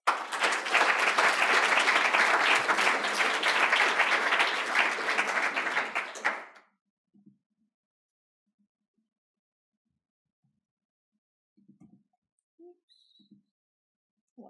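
Audience applause welcoming a speaker at a talk, a dense burst of clapping lasting about six seconds that stops abruptly, leaving near silence with a few faint stray sounds.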